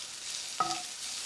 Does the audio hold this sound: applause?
no